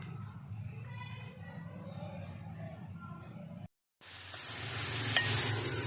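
Grated beetroot fries in oil while being stirred: after a few seconds of a voice talking, a brief break leads into a steady, moderately loud sizzle with light scraping.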